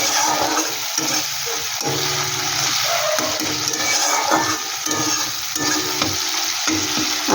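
Masala with kasuri methi leaves frying in a little oil for ghugni, a loud, continuous close sizzle with a stirring spatula scraping the pan throughout and no voices.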